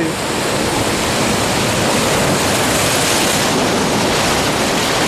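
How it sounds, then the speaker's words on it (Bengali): Ocean waves breaking on a beach roar in a loud, continuous wash of surf close by, with no talk heard over it. "দেখো আমি আসতেই সবচেয়ে বড় ঢেউ এসে গেল।"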